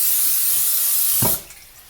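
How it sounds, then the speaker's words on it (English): Pam cooking spray squirted into a pan on medium-high heat, one loud close continuous hiss lasting over a second that then cuts off, followed by faint clatter. "I'm going to spray Pam into my pan again, just so that the egg doesn't stick"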